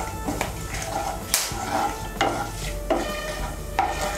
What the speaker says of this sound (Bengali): দিয়ে একটু নাড়াচাড়া করে নিয়ে এর মধ্যে আমি পেঁয়াজ কুচিটা দিয়ে দেব।